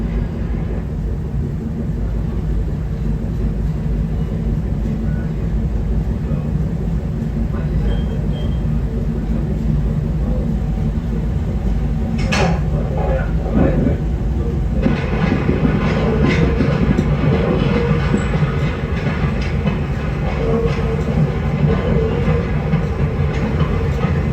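A train pulls out of Union Station in Toronto with a continuous heavy rumble and rolling rail noise, steady and fairly loud throughout, with faint scattered clicks and a voice speaking over it.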